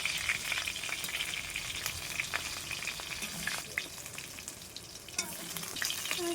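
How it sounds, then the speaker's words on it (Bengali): Fried fish is lifted out of a pan of hot oil while a continuous, fairly close sizzle crackles, broken by brief scraping and clinking from a spatula. No one speaks. "মাছগুলো ভাজা হয়ে গেছে, তাই এখন তুলে নিচ্ছি।"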